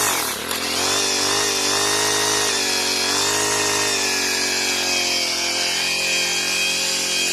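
A four-stroke weed eater engine running on alcohol fuel drones steadily and loudly up close, its high buzzing pitch holding nearly constant for several seconds with no voices.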